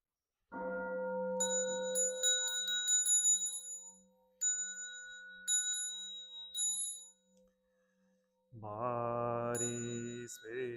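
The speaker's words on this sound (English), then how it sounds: "I send my heart along with the sound of the bell." A Buddhist temple bell struck once during a Sunday service, ringing with a long sustained hum that slowly decays, mixed with faint high chimes, until a voice begins speaking near the end.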